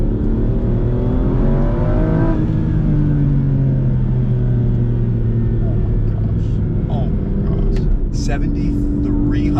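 An Aston Martin V12 Vantage S engine revs high and loud, its pitch climbing then falling away, with rumbling mechanical noise throughout and a few sharp clicks near the end.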